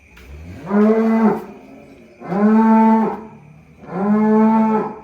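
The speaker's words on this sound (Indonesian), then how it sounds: "Oke, sapi terakhir." Three long, loud moos from a cow nearby, evenly spaced with short pauses between them.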